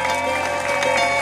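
Audience applause at an outdoor charity concert, dense continuous clapping with crowd noise and a sustained musical tone underneath, loud and close throughout.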